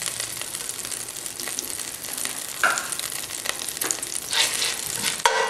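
A tablespoon of ginger sizzles in two tablespoons of butter over a high flame, a steady, moderately quiet crackle close by with a few sharper spatters and stirring sounds toward the end.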